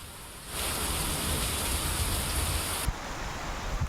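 Heavy rain in a thunderstorm in Gudivada, Andhra Pradesh: a dense, steady roar of downpour that swells in after a quiet start, with a brief knock near the end and no voices.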